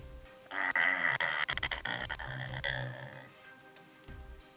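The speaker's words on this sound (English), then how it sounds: "The toad bellows." A toad's deep bellowing croak during a tabletop fantasy game session, a loud close rasping call of a few seconds that swells and then fades.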